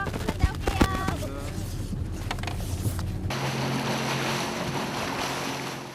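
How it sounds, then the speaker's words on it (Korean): A small boat riding high winter sea waves while carrying a hospital ship's medical crew to a remote Korean island: steady wind and surf roar with engine rumble, a few sharp knocks early on, then a louder rush of wind and water. "여전히 높은 파도에 배를 타는 것조차 쉽지 않다."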